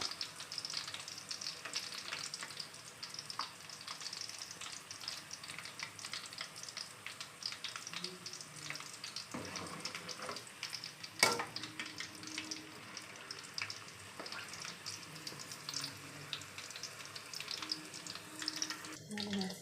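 Evening snacks frying in hot oil until crispy, a constant soft sizzle and bubbling with occasional stirring clatter and a brief sharp knock, fairly quiet and close, with no talking.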